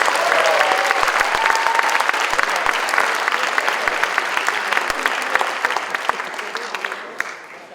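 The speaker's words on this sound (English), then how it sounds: "How about you give everybody a round of applause?" An audience at a community event applauds after a paddle race, a thick, sustained wash of many clapping hands with crisp individual claps standing out, fading gradually near the end.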